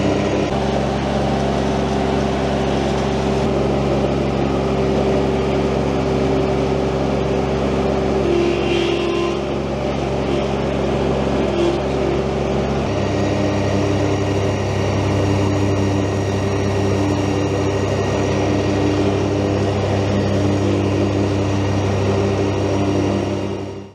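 A zero-turn mower engine runs steadily with its cutting deck lowered and blades engaged, a loud continuous drone that shifts to a deeper pitch partway through and keeps going to the end.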